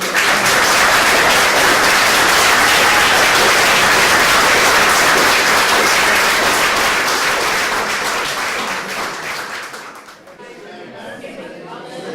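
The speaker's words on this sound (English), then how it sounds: "After a round of applause." Audience applause fills a Spotlight at PhoenixClip stage show, a dense wash of many hands clapping loudly and steadily for about ten seconds before thinning out.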